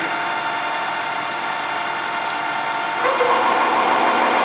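Metal lathe cutting metal at 800 RPM with a fine feed, throwing stringy chips; a steady close whine and hum that grows slightly louder and brighter partway through, with no talk.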